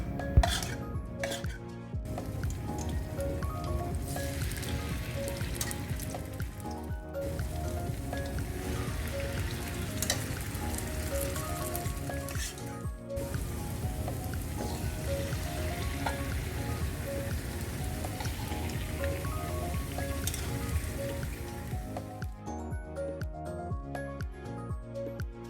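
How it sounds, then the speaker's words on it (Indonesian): Flour-coated food fries in a pan, giving a dense, steady sizzling crackle up close that runs the whole time, with an occasional clink of a utensil and no talking. "sekarang kita tepungin lalu goreng."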